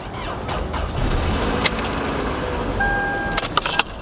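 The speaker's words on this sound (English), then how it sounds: "Does your car sound like this when you're cranking it up?" A 2009 Toyota Camry with a weak battery cranks sluggishly in a steady, labored churn, with jingling keys and a few sharp clicks near the end; no one speaks.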